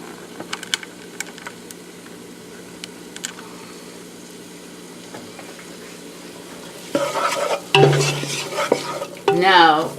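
Onions cooking in a pan for meatball sauce, a soft steady sizzle with faint stirring, then louder scraping and clatter of the utensil near the end, no talking.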